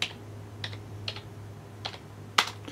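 Typing on a computer keyboard: a handful of sparse, separate key presses spaced irregularly, the last one sharper and louder, over a steady low electrical hum with no speech.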